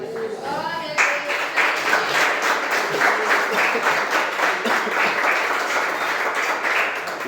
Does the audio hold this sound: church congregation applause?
yes